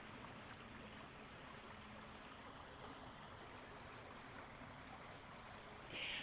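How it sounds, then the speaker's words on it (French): A nearby stream flows steadily through an outdoor natural setting, a constant broadband rush of water holding at an even level throughout with no voices, brightening briefly near the end. "Là, vous entendez l'eau en plus."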